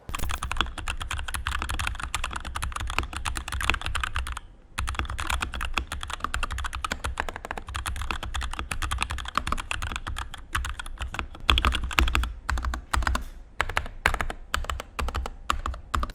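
Typing on a SteelSeries Apex 9 TKL gaming keyboard with Gateron optical switches, rapid, continuous close-up key clicks and clacks over about sixteen seconds, with a brief pause near the middle and a faster burst toward the end.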